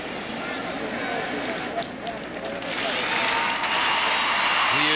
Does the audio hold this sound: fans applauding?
yes